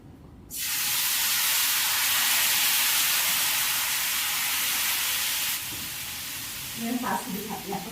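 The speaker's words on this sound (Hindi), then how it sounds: "ऑयल डालने के बाद हम अपने फ्लोर को ऐसे डालेंगे" Flour batter hits hot oil in a pan and a loud, steady broadband sizzle roars up at once, easing slightly toward the end as faint clinks and a bit of speech-like sound come through.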